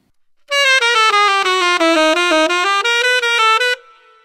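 A saxophone plays a quick lick, a fast run of bright, clean notes played close and loud, alone, ending abruptly.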